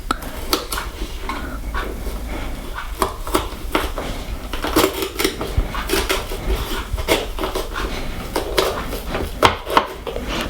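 A knife chops carefully around the inedible part of an ingredient during fajita prep: a busy run of sharp knocks and clatters on a board, with utensil and dish rattles mixed in.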